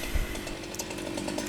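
Chainsaw cutting sections of a big tree during crane-assisted felling by tree climbers, a faint distant buzzing engine drone with brief revving bursts, no voices.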